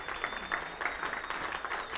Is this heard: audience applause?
yes